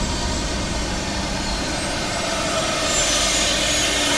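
Embraer ERJ175 jet engines winding down in a flight simulator after arrival at Washington National Airport: a steady, loud, broadband engine roar with a high whine, fairly even throughout, without talking.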